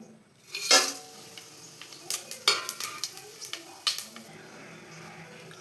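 Whole spices (mace, cloves, cardamom, fennel seed, bay leaf and cinnamon) sautéing in oil in a pan for vegetable rice, soft sizzle under a series of sharp scraping and clinking stirs, close and fairly quiet.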